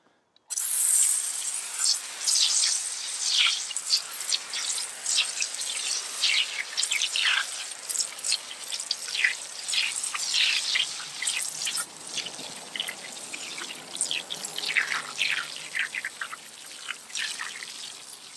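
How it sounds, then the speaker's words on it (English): Brake Buster wheel cleaner is foamed onto a dirty car wheel and agitated, giving a wet crackling and dripping fizz with scattered squelchy brush strokes, close and fairly quiet throughout. "All right, now time to foam and agitate the Brake Buster."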